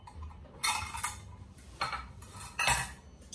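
Dishes and metal measuring cups clatter in a home kitchen during organizing, three bright bursts of clanking spaced about a second apart, fairly quiet and close with no voices.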